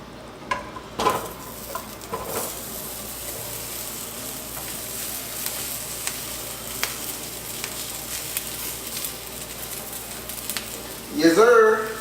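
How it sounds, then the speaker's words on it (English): Brussels sprouts sizzle and fry steadily in a hot skillet. The crackle runs evenly throughout, and a louder burst of stirring or scraping comes near the end. "go ahead and throw these Brussels sprouts in this hot skillet"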